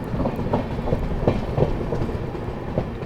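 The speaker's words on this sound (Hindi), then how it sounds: "यहाँ ट्रेन जो है अपनी पनकी धाम पहुंच रही है।" The Mau - Anand Vihar superfast express rolls into Panki Dham station with a steady rumble and repeated rhythmic clacks of wheels over rail joints, heard fairly close.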